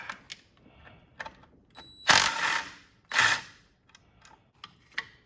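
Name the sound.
ratchet unbolting a car engine bracket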